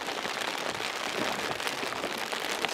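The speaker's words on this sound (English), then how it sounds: "So now we're in our little shelter in the rain, trying to stay dry." Steady rain pattering on a small shelter out in the Alaskan wilderness, a dense, even hiss with scattered close drop ticks, unbroken throughout and with no voices.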